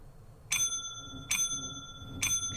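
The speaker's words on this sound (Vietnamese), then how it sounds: "Ai gõ chuông lúc này vậy?" In the horror game Late Laundry, a bright bicycle-style bell rings three times at an even pace, each ring clear and ringing out briefly over a faint low background, with no talk.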